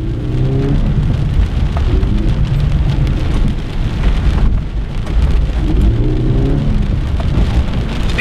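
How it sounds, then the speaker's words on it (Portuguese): Heavy, steady rain pours down at a drift track during a Toyota GT86 session, a loud continuous hiss of drops on surfaces with low rumbling underneath, no talking. "tá tensa a chuva aqui"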